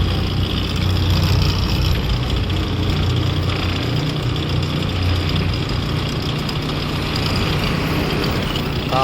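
A vehicle engine runs continuously at close range, a loud, steady low rumble like a truck or bus idling or pulling up, with no clear change across the stretch.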